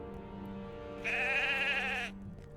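A captive sheep in the online game Lord of the Rings Online gives a single clear, wavering bleat about a second long, faint and close, over quiet game ambience.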